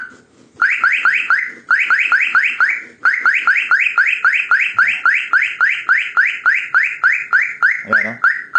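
A loud electronic earthquake alarm, set off by slight shaking, repeats a rapid rising warble over and over, pausing once briefly before continuing at the same steady pace.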